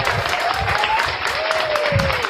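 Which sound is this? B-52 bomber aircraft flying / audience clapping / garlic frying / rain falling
audience clapping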